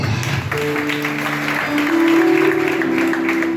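Congregation applauding in a Nazarene church, lively clapping layered over held keyboard chords, fairly loud and steady, swelling slightly midway.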